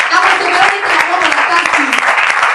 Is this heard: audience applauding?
yes